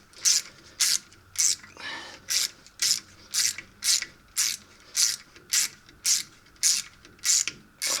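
Ratchet wrench breaking loose and spinning out the six bolts on the axle of a 1989 Nissan D21 Hardbody pickup, a steady run of about fourteen evenly spaced, close, loud clicking bursts with no talk.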